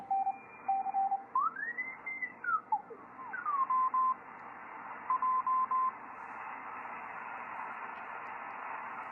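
Morse code CW signals received on a Yaesu FT-101EE shortwave radio: clear on-off tone keying over steady receiver hiss, with a swooping tone as the dial is tuned between signals.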